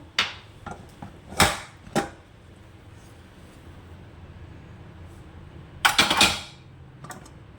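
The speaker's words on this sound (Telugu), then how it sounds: "కుక్కర్ తీస్తున్నాను" A pressure cooker being opened in a home kitchen while making masala khichdi, giving sharp metallic clanks and knocks in two clusters separated by a quiet stretch.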